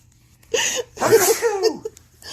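A single sharp sneeze with a quick intake of breath before it, close and fairly loud, followed by a short voiced sound.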